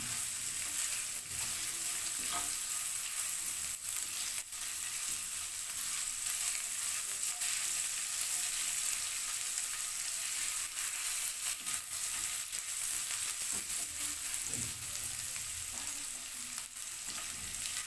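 Vegetables frying in a pan for vegetable spaghetti produce a continuous, even sizzle with faint stirring scrapes, close and unbroken throughout.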